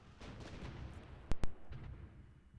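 Artillery fire in the strategy video game Supreme Ruler Ultimate: a low, muffled rumble of distant booms, with two sharp, close cracks in quick succession mid-way.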